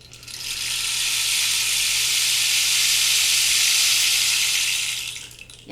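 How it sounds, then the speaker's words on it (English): Rain stick tipped over, releasing a smooth, bright cascade of trickling pellets that swells in and holds steady for about five seconds before fading, close and alone, ending in a small knock. "Or you've probably seen the rain stick."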